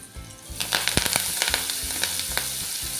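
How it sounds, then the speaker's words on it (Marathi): Garlic and shatavari sizzle and crackle steadily in hot ghee, with sharp pops and spatters over a constant frying hiss and occasional stirring scrapes, close and fairly loud. "हे थोडंसं आपण असं तुपावर परतवून घ्यायचं आहे"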